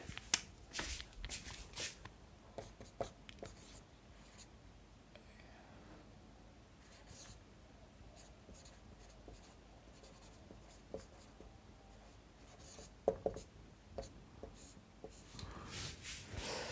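Pen writing a definition by hand on paper, faint close scratching strokes in irregular bursts with sharp taps and pauses between words, quiet room otherwise.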